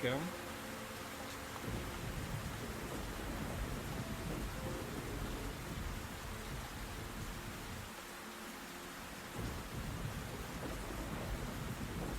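Steady rain with low rumbling thunder rolling beneath it in a video game, faint and continuous, with a brief hush partway through.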